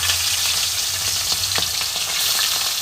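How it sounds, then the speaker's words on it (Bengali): Jiol fish coated in salt and turmeric fry in hot mustard oil, a loud, close, continuous sizzle with small crackles and pops throughout. "এবার এই যে লবণ হলুদ মাখিয়ে নিয়েছি জিওল মাছগুলো ভেজে নেব,"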